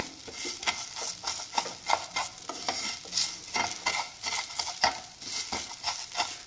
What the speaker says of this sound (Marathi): असं आपण व्यवस्थित हे भाजून घेऊया मिक्स करून शेवयांबरोबर एकसारखं